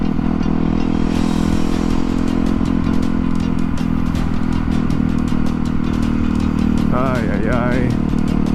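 A motorcycle engine runs loud and steady, then accelerates hard, with a voice briefly exclaiming over the engine noise.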